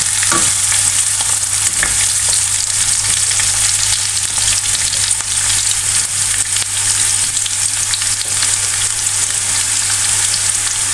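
Cauliflower sizzles and fries in a pan with pickle spices, a loud continuous hiss and crackle with occasional stirring clatter, no voices.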